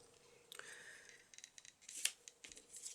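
Scissors snip through printed paper for vintage monochrome notecards in a quiet room, giving a series of short, crisp cuts at an uneven pace, close and faint with no voices.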